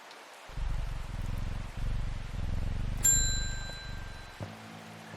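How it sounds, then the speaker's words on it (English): Rain patters steadily in the video game Strange Horticulture, set in the town of Undermere, a soft continuous shower broken by a bright bell-like ding and a short chime near the end, with no voices. "Does it ever stop raining in Undermere?"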